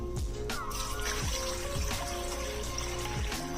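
Water, about two glasses, poured into a kadhai holding a kilo of chicken: a steady trickling, splashing stream with small gurgling drops, heard close and alone.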